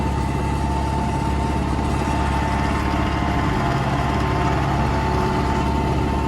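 An MTZ tractor engine runs steadily and loudly with a constant low rumble, heard close up and alone throughout.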